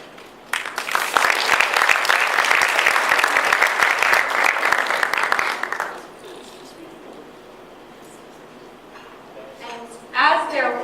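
An audience claps loudly and steadily for about five seconds as panelists walk up to a conference stage. The applause then stops into quiet room tone, and a brief burst of speech follows at the end.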